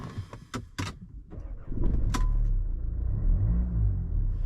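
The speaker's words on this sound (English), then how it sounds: "Let's start it up and see what it sounds like, shall we?" A Mercedes AMG car engine cranks and catches after some clicks and clunks, then settles into a steady low idle rumble close by.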